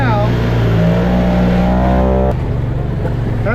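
Trucks rev their engines at a muddy mud hole during a Memorial Day weekend party, a loud, steady mechanical roar with rising engine tones that drops abruptly midway, with voices mixed into the noise.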